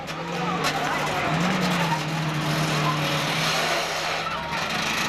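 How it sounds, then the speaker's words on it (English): A bus at Seekonk Speedway grinds its transmission while reversing during a bus race, a steady low mechanical whine that rises in pitch partway through, buried in loud, continuous race-track engine roar and crowd noise. "Hear that transmission grinding on the Seekonk bus as he backs up"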